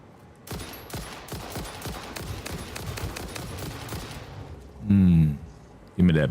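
An enemy firing at the player in the factory game Satisfactory: a rapid rhythmic burst of a dozen or more gunshots, followed by loud voice outbursts near the end.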